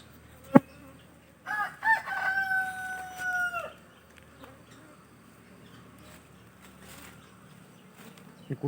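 Aggressive honey bees swarm around an open hive on a bee farm, a faint steady buzzing under a loud nearby rooster crow and a sharp tap at the start.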